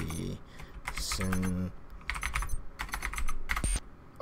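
Someone types quickly on a computer keyboard, with dense bursts of clicky keystrokes while a voice briefly speaks between them.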